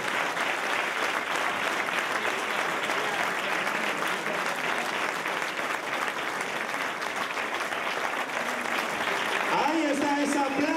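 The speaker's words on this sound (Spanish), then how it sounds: "Así que os pido un fuerte aplauso para ellos" Sustained applause from a crowd, steady and full for several seconds, with a voice starting to speak over it near the end.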